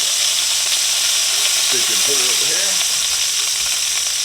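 Wild pig backstrap sears in a hot pan with a loud, continuous close sizzle and hiss, and a brief spoken word is heard partway through.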